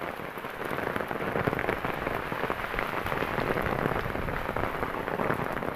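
Heavy monsoon rain pours steadily on a village, a dense, loud, continuous hiss of drops hitting surfaces with no let-up.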